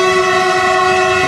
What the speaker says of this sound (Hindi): मेरे सामने से भी एक डीजल इंजन आ रहा है